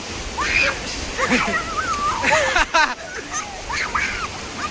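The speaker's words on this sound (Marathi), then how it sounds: "धमाल धमाल जोरात पाणी आहे इकडे." A strong Konkan stream rushes and splashes steadily where people are bathing, its broad watery roar running throughout beneath lively nearby voices.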